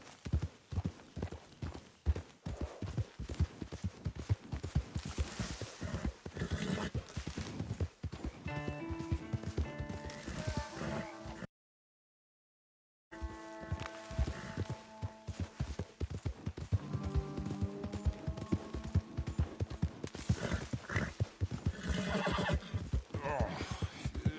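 Rapid video-game horse hooves clip-clop steadily throughout, with a loud neigh breaking in twice, near and clear over a brief gap of silence.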